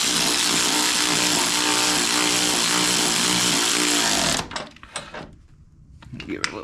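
A cordless ratchet whirs steadily and loudly as it drives bolts down, then stops abruptly and gives way to clicks and handling noises, close by.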